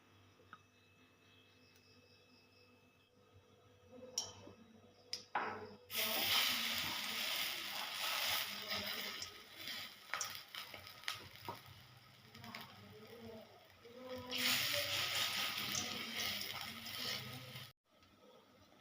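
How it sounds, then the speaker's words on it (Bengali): Masoor dal fritters fry in mustard oil with a soft, steady hiss that swells after a few quiet seconds, then runs on faintly with small crackles before cutting off near the end. "এখন এটার ভাজা করব চলো আগে সরষের তেল দিয়ে দেবো তারপরে দিয়ে বড়া"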